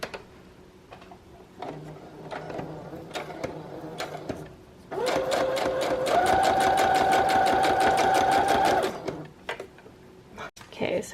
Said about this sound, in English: So I'm just going to sew all the way around.